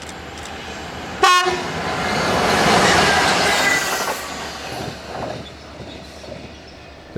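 Class 47 locomotive 47593 hauling a charter train from Appleby to Skipton on the Settle and Carlisle line, a class 66 dead at the rear: a loud horn blast followed by a swelling, rushing roar of the train passing close by, fading away.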